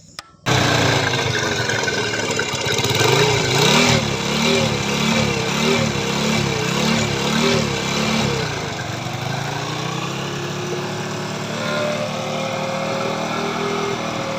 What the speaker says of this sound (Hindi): इंजन की साउंड भी बेहतरीन है